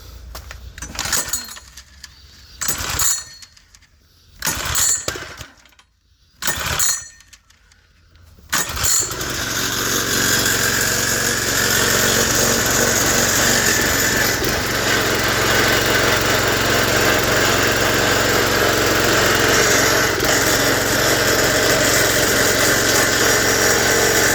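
Small Predator gasoline engine on a log splitter, primed with a bulb, pulled a few times in short sputtering bursts before catching and settling into a loud, steady, continuous idle.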